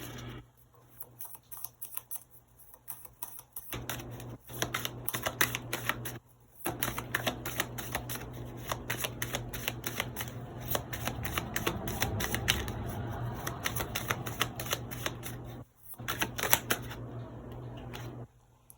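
Tarot cards being shuffled by hand, long runs of rapid crisp riffling and flicking close up with short pauses between bursts, no talking.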